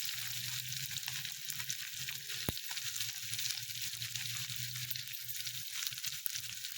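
Onion, garlic and green chillies fry in a hot oil tempering for a Marathi vegetable dish, producing a steady, continuous sizzle with a faint clink from the pan partway through.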